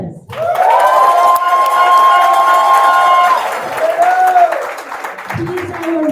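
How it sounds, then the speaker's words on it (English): At a medical residency graduation, the audience bursts into loud applause mixed with whooping cheers and high sustained shouts that hold for several seconds, then taper off, with a voice coming in at the end. "let's give a big round of applause for Dr."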